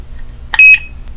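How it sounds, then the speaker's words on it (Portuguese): An alarm padlock being armed gives one short electronic beep, a bright steady high tone lasting about a quarter second, close and alone over faint room noise. "Agora eu vou ativar o alarme."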